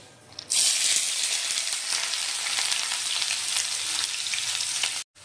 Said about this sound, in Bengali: আর তেল গরম হয়ে গেছে বন্ধুরা, আর এখন এর মধ্যে দিয়ে নেব কেটে রাখা যে পেঁয়াজটা, সেটা।